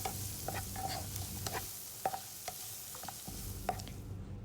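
Chilli, turmeric and pepper powder with salt being stirred into a frying mixture for a bread shawarma filling: quick spoon clinks and scrapes against the pan over a quiet, steady sizzle.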